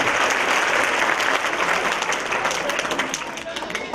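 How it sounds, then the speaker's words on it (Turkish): An audience at a Quran course graduation ceremony applauds, steady and dense, then the clapping slowly tapers off toward the end. "Kuvvetli bir alkış alıyoruz Yahya'mıza ve Beyza'mıza."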